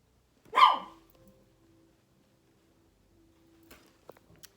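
A chihuahua gives a single sharp, loud bark close by at construction work next door, followed by near silence and a few faint clicks and knocks.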